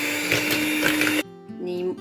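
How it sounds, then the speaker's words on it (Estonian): A large electric stand mixer whips butter, its loud steady motor whine running close and continuous, then it cuts off abruptly and a softer, lower hum restarts briefly before fading. "Võtame selle suure miksri siit."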